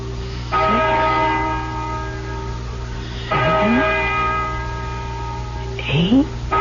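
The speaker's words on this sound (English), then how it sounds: "Listen to that bell." A large bell tolls three times at slow, even intervals, each stroke ringing out and slowly decaying over a low hum.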